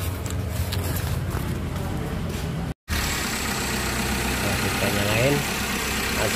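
A Suzuki APV Arena engine cranks and settles into a steady idle after a short dropout, a mid-pitched continuous hum heard up close.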